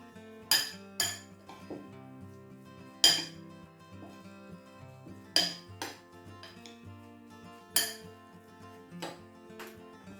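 Metal utensil clinks and scrapes against a bowl while steak tartare is mixed with salt and pepper, sharp irregular knocks recurring every second or two over soft scraping, close and fairly quiet.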